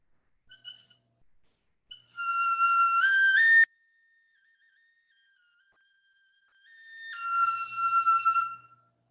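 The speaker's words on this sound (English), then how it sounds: "I cleaned this bone up and I made it into a whistle based on some Paleolithic examples" A whistle carved from a chicken leg bone, modeled on Paleolithic examples, blown in several shrill, pure tones: a few short toots, a sustained piercing note that steps upward, then a quieter held tone and another strong rising blast.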